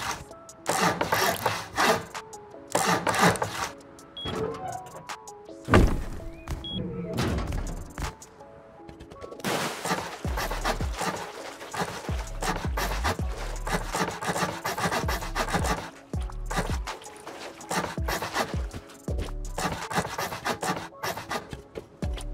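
Building pieces snap into place one after another while a Rust base is upgraded to sheet metal or armored with honeycomb walls, a dense run of rubbing, scraping and thudding hits with short pauses between.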